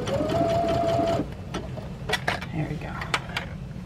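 Sewing machine running a zigzag stitch through stretchy swimsuit fabric, a steady close whirring burst for about a second, then stopping, followed by faint handling clicks and light taps.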